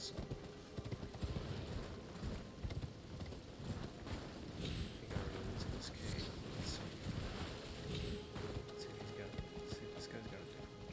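Horse hooves clip-clop steadily in the Elden Ring video game, a continuous rhythmic trot set against wind and game ambience, loud and close.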